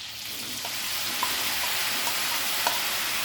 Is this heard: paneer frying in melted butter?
yes